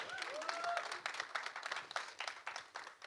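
Audience applause rings out at the Jatt And Juliet 3 trailer launch event, a fairly faint, sustained round of clapping from a crowd with a brief tonal sound near the start.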